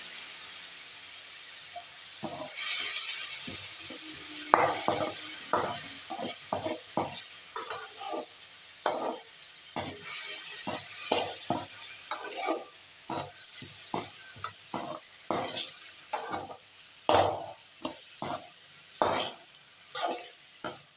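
Tomatoes sautéed in a pan with a constant sizzle and hiss under repeated spatula scrapes and knocks, a near, rhythmic series of strokes running throughout.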